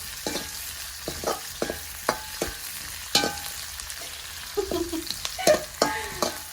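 Sliced onions fry in a pan for a chicken gravy, with a soft sizzle under repeated metallic scrapes and clinks of a spatula stirring at an uneven rhythm, close and fairly loud.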